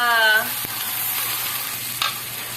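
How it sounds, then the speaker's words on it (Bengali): Chopped onions fry in a pan for a fish curry, a soft continuous sizzle with a few light stirring scrapes, starting with a brief tonal hum. "এখন একটু হালকা নাড়িয়ে চাড়িয়ে নিব, একটু হালকা।"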